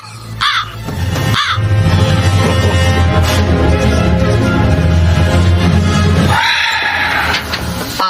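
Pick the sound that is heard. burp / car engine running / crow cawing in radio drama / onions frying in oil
crow cawing in radio drama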